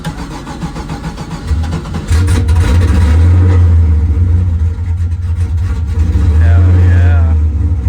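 A Nissan S13 cranks and fires up around two seconds in, settling into a loud, rumbling close-up idle with a couple of revs swelling near the end.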